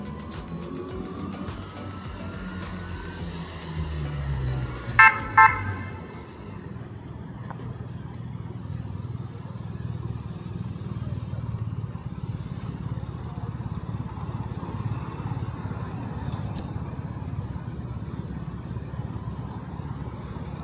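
A convoy of taxis with a police motorcycle escort drives past, with engines rumbling and droning over a long stretch, vehicles passing one after another and a couple of sharp horn-like blasts near the middle.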